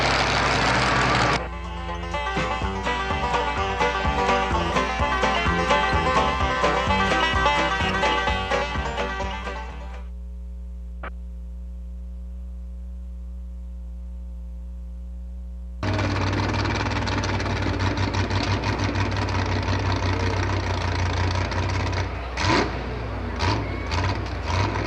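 A pulling truck's engine roars loudly at a truck and tractor pull, a long sustained run that drops to a low idle hum before surging back into full-power roar.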